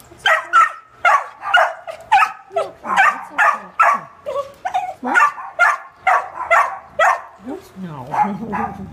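A scared three-year-old boxer mix dog barks repeatedly in loud, close bursts, with yips and whimpers mixed in and a person's voice heard at times.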